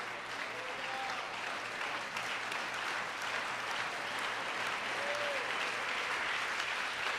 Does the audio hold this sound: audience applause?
yes